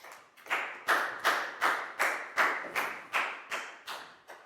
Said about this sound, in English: High five and a big round of applause for Prow